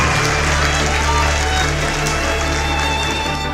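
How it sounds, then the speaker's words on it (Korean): Children's Sunday school class at a Korean church claps and cheers at the start of an awards ceremony, steady dense applause filling the whole stretch with some voices mixed in. "박수! 와!"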